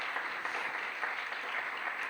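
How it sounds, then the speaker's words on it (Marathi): A crowd at a school event during a Gurukul maha-aarti applauds, with steady dense clapping held at an even level throughout, no speech on top. "जोरदार टाळ्या वाजवा."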